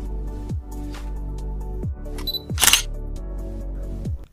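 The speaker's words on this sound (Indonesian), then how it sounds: "Kita coba tes sampel untuk jepretan kameranya dulu." A Canon EOS M3 camera fires several shutter clicks for test shots, close and crisp at irregular intervals, with one brighter mechanical burst near the middle.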